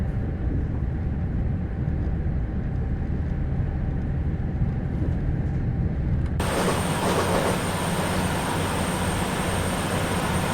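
A JT Class 222 Meridian diesel unit running in Train Sim 2021 with a Voyager sound pack, a steady loud engine and rolling drone with wind rush, shifting to a brighter whine with a sustained high tone partway through; no talk.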